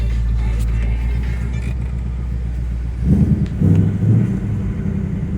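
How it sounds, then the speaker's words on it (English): A 2020 Ford Mustang GT Premium V8 engine idles with a low steady drone, then is revved several times in short throaty bursts. "Let's hear some of that engine."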